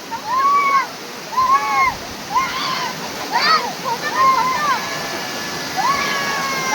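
Steady roar of a nearby waterfall at Zirad Pada near Kanakeshwar fills the background while people talk loudly over it in short bursts.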